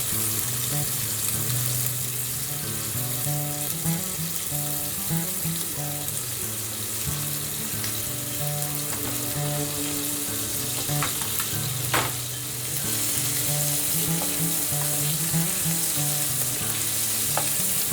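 Large prawns fry in hot oil for Prawn 65 over a low flame, giving a steady, dense sizzle that continues unbroken and fairly close, with occasional small pops and a faint scrape of stirring.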